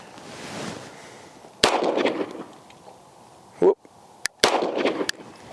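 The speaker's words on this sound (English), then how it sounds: "We're gonna see how well we can hit some C-zone steel with this" Sharp pistol shots from a Kimber KDS9c 9mm with a commander-length barrel, fired at steel targets at 60 yards, crack out loudly one at a time with gaps between, and a man briefly whoops amid outdoor background noise.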